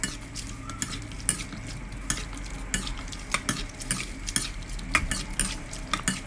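Squid blanches in boiling water with coriander root, a bubbling, hissing wash under frequent light clinks and taps of a utensil against the pot.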